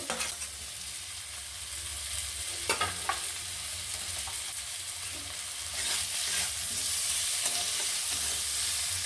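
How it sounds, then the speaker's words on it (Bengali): Fried potatoes sautéed with spices and tomato in a pan, a continuous soft sizzle with occasional scraping stirs, close and fairly quiet, no voices. "এবার ভেজে রাখা আমি আলুগুলো মশলার সাথে একটু কষিয়ে নেব"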